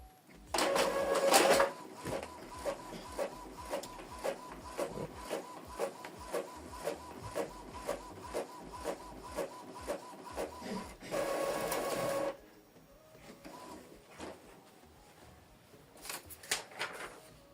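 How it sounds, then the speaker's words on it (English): Epson EcoTank ET-2876 inkjet printer printing a test page: loud bursts of paper feeding at the start and near the end, with a rapid rhythmic ticking of the print head shuttling between them, close and alone. "So it's printing a test."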